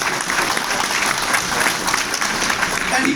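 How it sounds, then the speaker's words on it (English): A crowd at a gun violence emergency summit in a Manhattan church on West 83rd Street applauds for first deputy mayor Sheena Wright, a thick, loud and sustained clapping that holds steady throughout. "Clap it up for first deputy mayor Sheena Wright."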